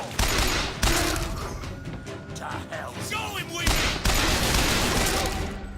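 Rapid automatic gunfire in the Bioshock Infinite shooter game rattles in dense loud bursts, with brief gaps and mechanical clanks between volleys, and game voices speak over the battle.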